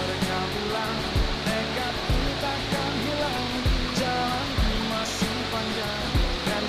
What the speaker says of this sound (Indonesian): Akhirnya kita sampai di air terjun Sungailiku.